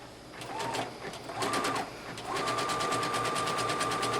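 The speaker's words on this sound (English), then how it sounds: "we're going to finish the edge of this seam also with a zigzag stitch right along the edge" A sewing machine runs a zigzag stitch along the edge of a dress bodice seam, starting and stopping in three bursts with a steady mechanical whir and rapid needle ticking, close and clear, the last run longest.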